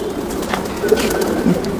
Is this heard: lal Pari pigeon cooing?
yes